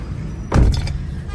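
A car door thumps shut once as people climb into the car in a hurry, a near, solid single knock followed by brief rustling and quiet vehicle ambience.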